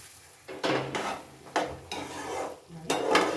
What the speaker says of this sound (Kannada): ಇದು ಚೆನ್ನಾಗಿ 1-2-3 ನಿಮಿಷ ಚೆನ್ನಾಗಿ ಒಳಗಡೆ ಸ್ವಲ್ಪ ಕುದೀಲಿ, ಫ್ರೈ ಆಗಲಿ.